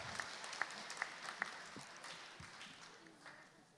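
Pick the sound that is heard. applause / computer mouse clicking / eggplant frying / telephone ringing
applause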